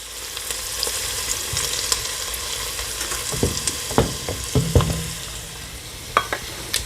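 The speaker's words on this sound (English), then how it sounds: "the next thing we're going to add here is our garlic. And you only need to let this saute for about 30 seconds." Garlic sautéing in a pan for potato soup gives a steady bright sizzle, with occasional utensil clicks and scrapes as it is stirred near the end.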